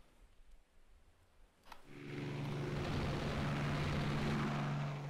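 Aircraft being recovered aboard ship in the naval strategy game Rule the Waves 2: a low droning engine hum swells in after a faint click and holds steady and loud.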